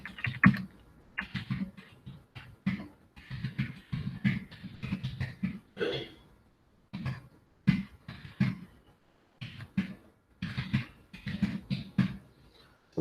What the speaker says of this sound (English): It's quite a lot of typing